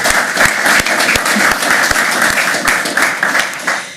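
An audience applauds at an agriculture hall of fame induction ceremony, dense steady clapping from a sizable crowd, loud and sustained throughout before easing slightly at the end.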